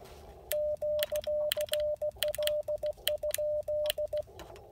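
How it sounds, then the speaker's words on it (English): Morse code QRL? keyed on an Icom IC-705 radio: a clean, steady tone pulses in quick dots and dashes over a soft band-noise hiss, loud and close, with brief gaps between characters. "What I'm doing there is sending QRL question mark, which basically asks if anyone's on frequency."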